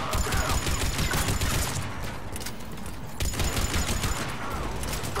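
Sustained enemy gunfire in Mass Effect 3 crackles as dense, rapid bursts that run almost without pause, dipping briefly midway before resuming at full strength.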